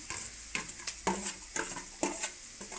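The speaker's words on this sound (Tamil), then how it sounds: "இந்த வெங்காயம் வந்து அப்படியே வதங்கட்டும்" Onions for beans poriyal sautéing in a pan, with a steady sizzle under repeated scraping stirs, close and moderately loud.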